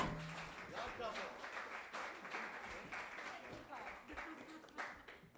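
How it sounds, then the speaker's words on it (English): Applause from an audience at a YOG Talks evening event, a steady wash of clapping that carries on throughout with a few voices mixed in. "big round of applause for the YOG couple"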